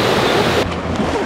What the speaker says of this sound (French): juste derrière nous, une piscine à vagues!